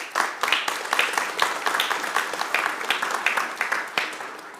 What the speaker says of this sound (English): Please give these leading community organizations a round of applause